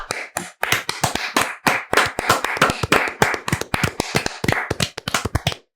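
A person claps their hands in a rapid, uneven series of sharp, close slaps, a few dozen claps over several seconds with brief pauses, with no talking.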